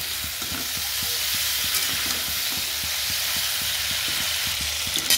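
Cauliflower fries with a freshly added ground spice paste, giving a continuous close sizzle with quick regular scraping strokes of stirring all the way through, no voices.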